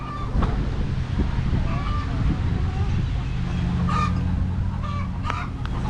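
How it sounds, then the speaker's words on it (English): Homestead chickens cluck in short scattered bursts, with a rooster nearby, over steady outdoor background noise and a person talking. "Oh, these lovely birds. They think every time I'm out here I'm supposed to feed them, but they've already been fed."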